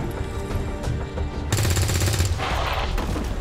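A burst of rapid gunfire from the XCOM 2 Long War 2 video game, a loud stuttering volley cutting in over a steady game soundtrack and fading into a rattling tail.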